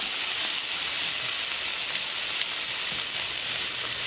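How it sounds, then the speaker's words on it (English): Pork carnitas sizzle in a pan in their own fat with a steady, bright hiss that continues evenly throughout, with no voices. "It'll sit here and sizzle on its own fat."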